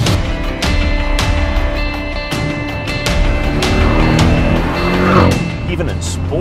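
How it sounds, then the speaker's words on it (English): Porsche 718 GTS sports exhaust from the 2018 model year, rumbling and burbling on overrun during hard driving, with gear-shift changes and engine note close and loud throughout, speech over the top. "I love the burble on the overrun. It's, I guess we're just kids. It makes a lovely noise, and that GTS exhaust on it is fantastic."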